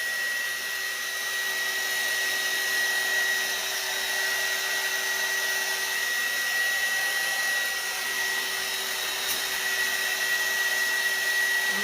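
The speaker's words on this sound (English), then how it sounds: "So, heat gun is done." A heat gun blows continuously over a painted 15-inch round wooden welcome sign, a steady whooshing drone with a faint high whine, close and unbroken throughout with no talking.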